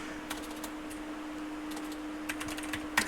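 Quiet keystrokes on a computer keyboard come in small irregular bursts, with a sharper cluster of taps near the end, against a faint steady hum and no speech.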